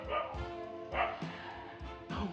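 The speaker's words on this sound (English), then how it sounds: "This would not be cooking with barking dogs unless they were barking" Dogs barking in a home kitchen, repeated bow-wow barks and yips in a loose rhythm, close and fairly loud, with a person talking between them.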